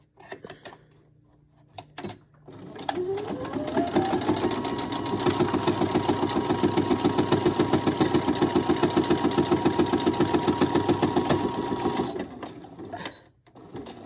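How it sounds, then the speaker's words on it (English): A sewing machine stitches lavender knee pads, whirring up to a steady fast rhythmic run of needle strokes for about nine seconds before slowing and stopping; close and clear, with no talking. "Drop my needle. We're gonna do a back stitch first."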